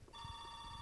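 A telephone rings in the Two Worlds video game, a faint, sustained electronic tone starting just after a brief low thump, sounding quiet and distant.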